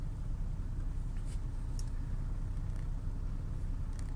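A repaired car engine idling at about 650 RPM after a wiring fault was fixed, a steady low rumble held evenly throughout, close by with a few faint clicks and no talk.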